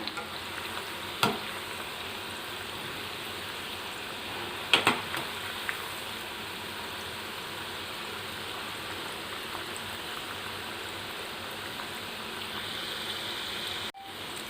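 Carrot balls deep-frying in hot oil give a steady, even sizzle throughout, with a few brief clinks of a utensil near the start.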